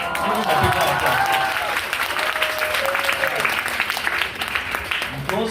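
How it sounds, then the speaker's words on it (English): Steady audience round of applause at a forum, many people clapping at full volume while voices carry through over the clapping. "Give him a big round of applause."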